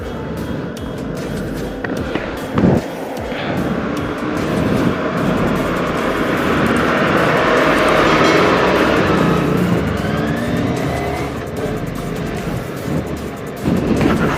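Four-cylinder engine of a new Kawasaki ZX25RR motorcycle roaring during a test ride, a sustained loud rumble that swells and holds for several seconds with rising whine, no talk over it.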